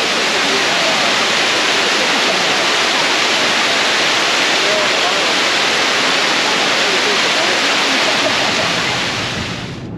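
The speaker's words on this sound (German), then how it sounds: "Es ist ein toller Wasserfall." A waterfall roars loud and steady, a dense unbroken rush of falling water that holds for the whole stretch and eases off slightly at the very end.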